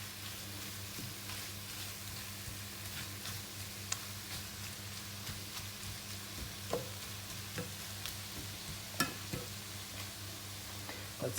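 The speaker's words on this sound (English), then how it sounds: "And again, give it a stir and simmer" Sweet potatoes and carrots simmering in a pan while being stirred: a steady, soft sizzle and bubbling with scattered light clicks and scrapes from the utensil, and no voices.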